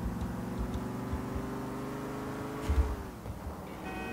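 Game car engine from GTA 4 drones steadily with shifting pitch as the vehicle is driven, a brief rough thump near the end, no talk over it.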